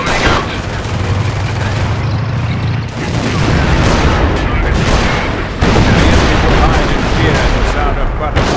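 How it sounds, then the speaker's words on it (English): SD-2 butterfly bombs go off in Company of Heroes, a continuous loud barrage of booming blasts and crackling gunfire, dense and overlapping with no pauses. "Airdrop SD-2 butterfly bombs have been deployed"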